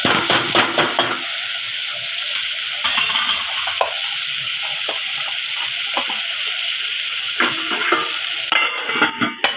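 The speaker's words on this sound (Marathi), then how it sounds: "अद्रक लसूणचा पेस्ट आहे, हा यामध्ये टाकलेला आहे. याला 2 मिनिटं होऊ द्यायचं आहे छान." Onion and ginger-garlic paste fry in a pan for a dhaba-style soya chunk curry, a bright continuous sizzle with frequent spatula scrapes and clinks against the pan.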